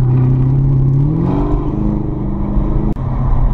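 A Chevrolet Camaro ZL1 A10 with 675hp accelerates hard, its loud engine note climbing and shifting pitch from inside the car before settling into a steady roar.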